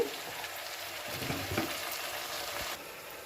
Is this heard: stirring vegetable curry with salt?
yes